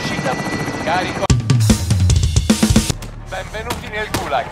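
Helicopter in Call of Duty Warzone lifting off with extraction cargo, a loud rotor rumble layered with gunfire bursts and game sound effects while voices talk over it.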